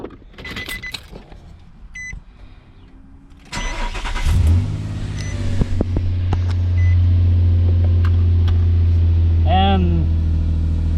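A Nissan Frontier 4.0 engine cranks and catches after some clicks and key jingles, then settles into a steady, loud idle that continues to the end, with a brief high squeak near the end.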